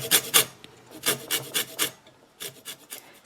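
Rasping scrapes of washed lemons dragged over a zester or fine grater, sharp bright strokes in quick groups of two or three with short pauses, close and fairly loud with no talk.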